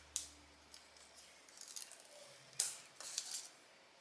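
Plastic film peeled off a sublimation name badge: a few quiet, sharp crackles and crinkles in short bursts, close and faint, with no talking.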